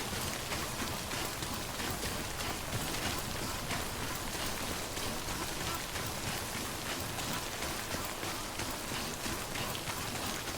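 Steady, dense rain falls as Timefall in the video game Death Stranding, a constant hiss of drops hitting surfaces that stays even and enveloping throughout, with no talk.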